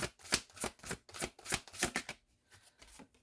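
A deck of playing cards being shuffled in a quick run of crisp riffling bursts, about six sharp flutters close up, then fading into softer, sparse rustles.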